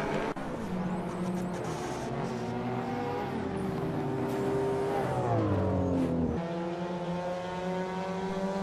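A Toyota Celica GT4 ST185 from the early 1990s laps a circuit in Assetto Corsa, its engine note rising and falling through gear changes with a sharp pitch drop near the end, loud and continuous with no voices.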